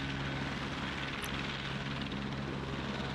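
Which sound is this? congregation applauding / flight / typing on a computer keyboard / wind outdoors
flight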